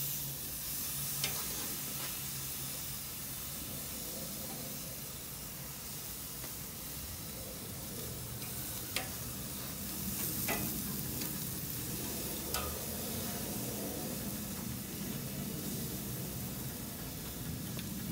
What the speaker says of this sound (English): I think it's time to cook this ribeye.